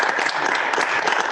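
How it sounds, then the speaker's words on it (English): An audience at a school board meeting applauds state champion students, with a steady, dense wash of many hands clapping continuously at moderate volume. "Let's give a round of applause to them."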